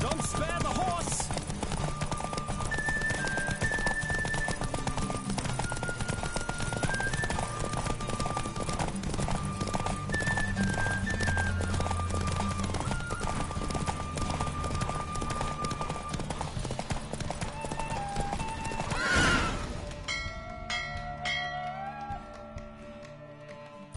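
Rapid rhythmic hoofbeats of a galloping horse in a horse race in The Witcher 3: Wild Hunt run steadily under game music, then fade into a brief burst of noise and sparse musical tones.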